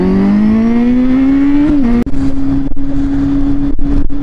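A Kawasaki motorcycle passes close by, its loud, steady engine whine climbing in pitch, then dipping and settling as it goes past.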